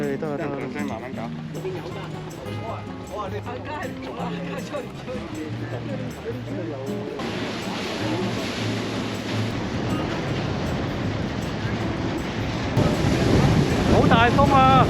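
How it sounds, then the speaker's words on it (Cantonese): Strong wind by the sea at Sai Kung, a roaring buffet and rumble against the microphone that grows louder in the second half, with people talking over it early on. "好大風啊！"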